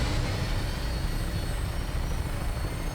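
Steady, loud aircraft engine drone with broad rumble and hiss, as a plane prepares for takeoff at Boston Airport in the video game Fallout 4, continuous and unbroken with no talking.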